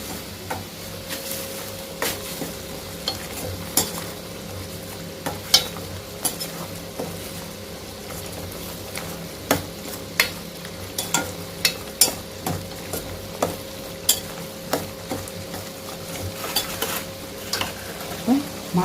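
A spoon stirs dried fish curry with mango, drumsticks and tamarind in a pan, giving repeated close scraping strokes in a loose rhythm over a soft steady sizzle.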